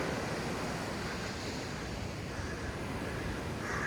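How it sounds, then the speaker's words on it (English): Surf washing onto the last beach of the Heysen Trail near Victor Harbor, a steady broadband roar of waves with wind buffeting the microphone, continuous and fairly even throughout. "So this is the last beach of my Heysen Trail Walk."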